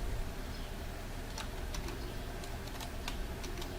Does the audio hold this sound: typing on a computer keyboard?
yes